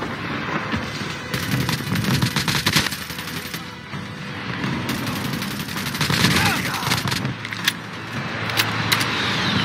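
Gunfire from the Archon's Hammer shooter game crackles in rapid bursts and single shots over a steady hum of engine-like game noise, with brief talk mixed in.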